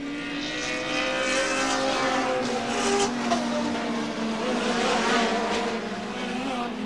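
Touring race cars at Mallala circuit in the 1989 Australian Touring Car Championship, engines roaring steadily as they run side by side into a corner, with a continuous loud drone throughout.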